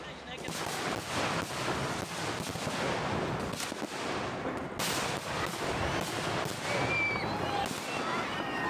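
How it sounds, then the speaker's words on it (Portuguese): Rocket exploding amid a small crowd packed behind a fence at a fireworks show, with rapid crackling bangs and repeated sharp bursts over several seconds, dense and loud throughout. "um vídeo no Facebook do que parece ser uma explosão de foguete entre uma pequena multidão amontoada atrás de uma cerca"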